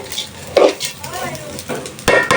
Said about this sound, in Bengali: তো চালটা ভালোভাবে ভেজে নিব